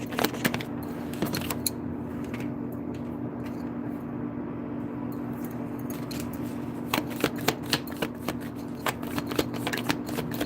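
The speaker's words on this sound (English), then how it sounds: "Let's use some tarot cards to get some other messages." Tarot cards shuffled by hand, a run of crisp riffling and flicking snaps with a quieter stretch in the middle, close and fairly loud over a steady low hum, with no talk.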